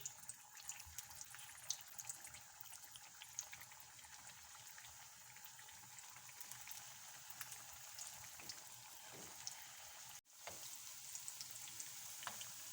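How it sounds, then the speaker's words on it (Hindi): Potato patties for aloo tikki chaat frying in hot oil, a steady bright sizzle running throughout at moderate level, with a brief dip near the end as the patties go in. "अब मैं सारी टिक्कियाँ इसके अंदर रखूँगी।"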